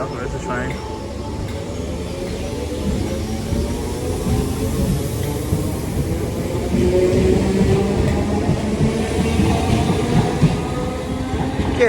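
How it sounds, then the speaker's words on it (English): A Merseyrail electric train pulls into a Liverpool station, a loud, close, continuous rumble of wheels and motors with faint squeals building as it arrives, while a voice carries on over the noise. "Oh, there's the train."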